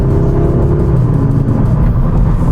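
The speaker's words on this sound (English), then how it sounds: "It has a 2-liter turbocharged 4-cylinder engine that produces 306 horsepower and 295 pound-feet of torque" A 2023 Audi S3 with a 2-liter turbocharged 4-cylinder engine makes a steady, loud engine drone and rumble, running continuously at close range with no talk over it.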